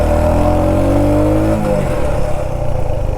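A modified Royal Enfield Hunter 350 motorcycle engine revs loud and close, holding a steady harmonic drone that drops in pitch about halfway through, with heavy vibration audible and no talking.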